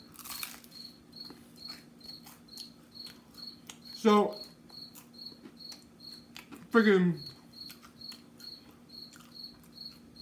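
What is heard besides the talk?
cricket chirping indoors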